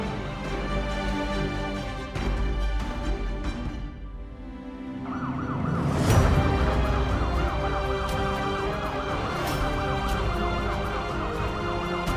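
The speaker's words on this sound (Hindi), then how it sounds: "भैया सायरन ऑफ करो प्लीज। माँ सायरन की आवाज सुनकर बाहर आ जाएंगे।" An ambulance siren wails, rising and falling steadily over loud, continuous vehicle rumble, sounding close and sustained for several seconds.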